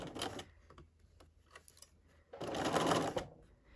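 Domestic sewing machine with a zipper foot stitching a zipper sandwiched between fabric strips, two quick whirring bursts with soft clicks between, close and fairly quiet.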